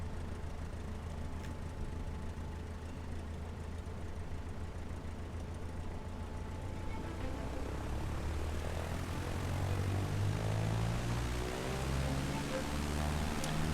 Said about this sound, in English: takeoff at Bismarck